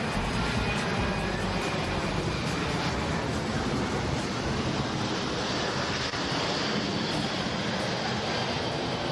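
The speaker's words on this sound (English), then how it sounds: "As you can see, the C-17 is extremely maneuverable at both high and low speeds" Boeing C-17 military transport aircraft flying at an airshow, a loud, continuous broadband engine roar with wind-like rush that holds steady throughout without any talk.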